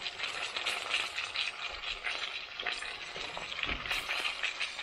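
Chicken frying in hot oil in a small cooker, a steady loud crackling sizzle with bursts of spatter, continuous throughout with no voices.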